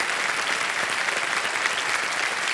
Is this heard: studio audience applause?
yes